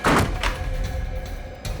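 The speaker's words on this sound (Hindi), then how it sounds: "दरवाजा क्यों बंद किया है?" A door is pushed shut in a dark, haunted bungalow in a Hindi TV crime drama, giving a loud, close thud at the start followed by fainter knocks and rattles.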